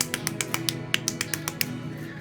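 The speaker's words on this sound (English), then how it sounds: "That's just me clapping." A single person claps hands about a dozen times in a quick, slightly uneven rhythm, close and fairly quiet, over a low steady background hum.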